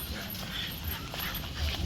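Dogs on patrol in a forest whimper and give short yips and barks at close range, over a steady outdoor background with possible voices.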